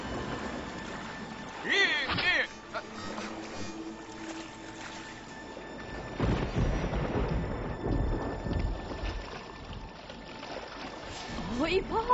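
A cartoon thunderstorm rumbles with deep thunder rolls and a steady wash of rain. Voices talk over the storm throughout.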